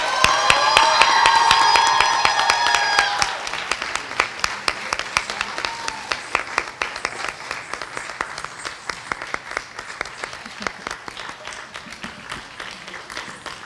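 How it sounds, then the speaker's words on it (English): An audience claps for a Bharatanatyam dance recital at an arangetram; a brief tonal sound opens, then dense, steady applause builds and continues before gradually thinning toward the end. "wish Riya with a huge round of applause for today's recital"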